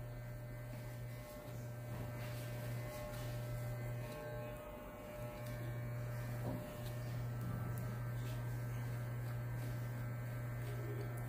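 An electric hair clipper cutting a fade haircut gives a quiet, steady low buzzing hum that holds for about eleven seconds with slight wavering and no talk.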